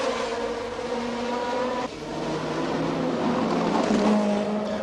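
Racing cars from the 1969 Monaco Grand Prix scream past one after another, high engine notes rising and falling as they accelerate by close at hand, with a brief dip before the next loud pass, no voices.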